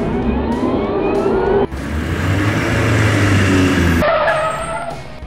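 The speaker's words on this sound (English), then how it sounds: "Monster Segway." Monster Segway, a cartoon toy vehicle, roars with a loud, continuous engine growl and tire-skid noise, shifting abruptly midway and again near the end, with no voices over it.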